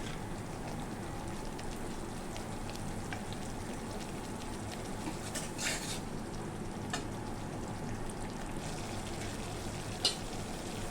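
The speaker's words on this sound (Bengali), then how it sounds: "গ্যাসের ফ্লেমটা লোতেই থাকবে, এখন মশলাটা হালকা করে কষিয়ে নেব" A spice paste for a pomfret fish curry fries gently on a low flame, giving a quiet, even, crackling hiss with occasional faint stirring taps.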